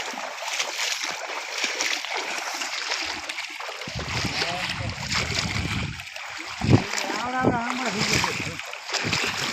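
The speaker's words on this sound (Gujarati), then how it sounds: "આટલા પાણીમાં હાલીને જવું પડે કે વાડીમાં" Footsteps sloshing through knee-deep floodwater on the way to a farm field after heavy rain, with splashes and gurgling water close by and people talking over it.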